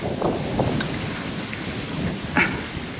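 A heavy storm lashes an outdoor fishing spot with dense rain, gusting wind and a low rolling rumble of thunder, a loud continuous wash broken by a few sharp patters and cracks.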